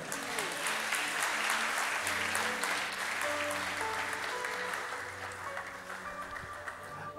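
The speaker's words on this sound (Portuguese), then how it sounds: "Se for, podem aplaudir agora." Church audience breaking into sustained applause, many hands clapping at a steady level for several seconds before easing slightly toward the end, with a few faint background voices mixed in.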